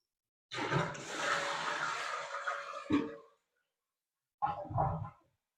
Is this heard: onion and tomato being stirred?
no